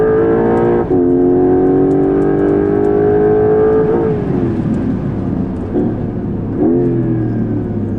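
The hybrid engine of a Porsche 911 Carrera GTS (992.2) on a race track revs loud and close, its tone climbing, dropping sharply, then rising again through several gear changes with a strong harmonic whine.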